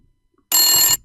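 An old telephone bell rings in one short, loud, bright burst lasting about half a second, preceded by near silence.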